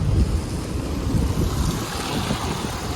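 Overflow water from Hidkal dam rushes past in a loud, continuous broadband roar with deep rumbling lows and gusty wind buffeting, and no voices.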